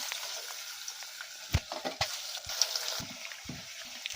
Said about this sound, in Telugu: ఉల్లిగడ్డలు వేసుకుంటున్నా. పచ్చిమిర్చి వేసుకుంటున్నా.